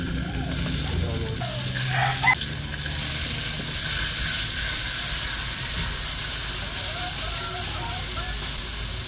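Chicken frying with garlic and onion in a pan: a steady sizzle with a broad hiss throughout, a brief clatter near the start, at moderate loudness.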